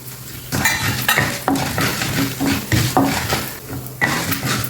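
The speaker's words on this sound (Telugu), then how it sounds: "ఇవి చక్కగా సిమ్లోనే వేయించుకోండి లోపల నుంచి చక్కగా వేగాలి" Nuts fry in ghee in a pan for upma with a constant close sizzle, while a utensil stirs and scrapes against the pan in repeated irregular strokes.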